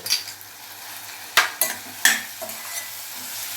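Ginger garlic paste frying in a pan with a steady soft sizzle, broken by several sharp scrapes and knocks of a spoon stirring against the pan, close by with no talking.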